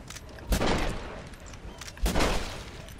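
Gunfire in the Red Dead Redemption video game: two heavy bursts of shots about one and a half seconds apart, each trailing off into a rumbling decay.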